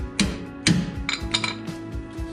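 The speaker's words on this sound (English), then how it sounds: "just a quick visit from Mr. Hammer" Hammer blows on a 2004 Chevrolet Silverado 1500 with a 6-inch lift while Fox 2.0 shocks are fitted: two loud, sharp metallic strikes close by, then a few lighter clinks, with no talking.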